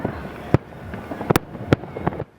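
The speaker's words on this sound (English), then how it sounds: "The sights and sounds of fireworks are a 4th of July tradition across East Texas" Fourth of July fireworks in East Texas burst in a quick irregular series of sharp cracks and pops, several loud reports standing out over a crackling background before it falls quiet.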